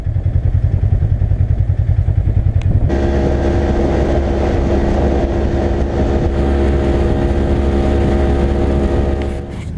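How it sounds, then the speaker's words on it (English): Dozens of Jeeps racing across a desert lake bed course: a loud, steady roar of engines and rattling clatter, with a sudden swell as the nearest vehicles rush close, mixed with wind buffeting the microphone. "So there's about 50 Jeeps out here."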